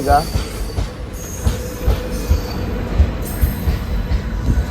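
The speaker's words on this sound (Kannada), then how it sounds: "ಸೊ ಗೈಸ್, ನಮ್ಮ ಟ್ರೈನ್ ಬಂತು" Amusement park train at GRS Fantasy Park in Mysore pulling in, with rumbling wheels, rhythmic clacking thumps and a brief squeal, heard close and fairly loud.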